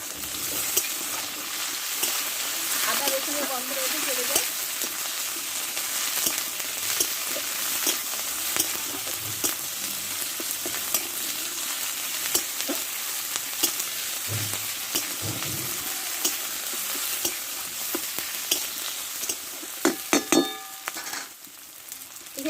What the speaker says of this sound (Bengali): এবার দিয়ে দেব একটু আদা বাটা আর দেবো রসুন বাটা আর এখানে দেব একটা টমেটো কেটে রেখেছি আমি দিয়ে দেবো দিয়ে একসঙ্গে ভালো করে কষে নেবো